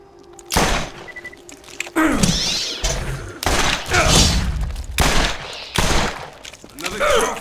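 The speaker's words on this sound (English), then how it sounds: "I'm missing shots when I ought not be missing shots" Repeated loud gunfire bursts from weapons in the video game Borderlands, several sharp volleys with booming tails and brief pauses between, close and dominant.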